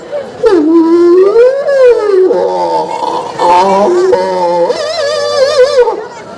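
A person mimics a native street dog howling at night, drawn-out wavering wails rising and falling, loud and close, several howls in a row.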